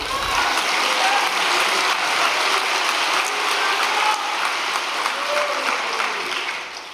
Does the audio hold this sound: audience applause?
yes